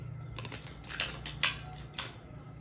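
A deck of tarot cards is shuffled by hand, producing quick, light riffling clicks and papery snaps in a few close bursts, fairly soft with no talking.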